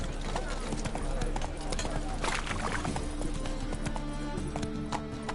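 Roach the horse gallops in The Witcher 3, with rapid, steady clip-clop hoofbeats running throughout alongside background music and ambient game sound.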